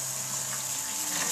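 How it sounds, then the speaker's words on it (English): Cold water flowing through the coils of a heat exchanger chilling hot wort on an electric all-grain brew day, a steady close rushing gush. "So I'm running cold water down through the coils."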